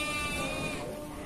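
Sheep bleat at a livestock market in Cilongok, Banyumas: a short, wavering bleat rises over dense crowd and animal noise, close and fairly loud.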